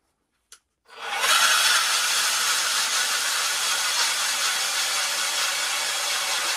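A power ice auger bores a hole through lake ice for ice fishing, starting after a brief click with a loud, steady grinding whir that holds without a break.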